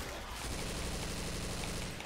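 Dense, continuous automatic gunfire in Left 4 Dead 2 versus mode, loud and rapid with overlapping shots against a horde, no voices.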